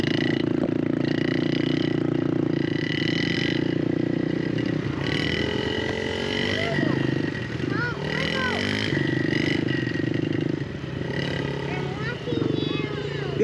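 A Yamaha TTR125 motorcycle engine revs up and eases off as the rider clicks up through the gears, rising and falling in pitch, with voices talking over it.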